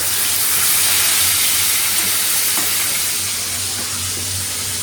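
Food frying in a home kitchen pan, a steady, loud broadband sizzle and hiss that holds evenly throughout with a low hum beneath.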